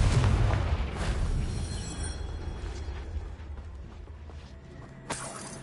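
The Confringo spell explodes in Hogwarts Legacy with a loud, broad boom that decays into a long rumbling tail, followed by a smaller burst near the end.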